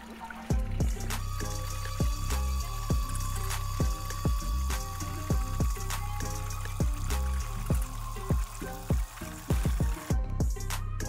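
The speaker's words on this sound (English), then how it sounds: "This is the Aquascape BioFalls 2500 waterfall." Water spills steadily from an Aquascape BioFalls 2500 pond waterfall filter, a constant splashing trickle heard alone at moderate distance.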